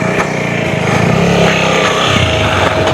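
A Royal Enfield Scram 440 motorcycle revving hard off-road in mud, a loud, close, steady engine roar that swells slightly across a few seconds.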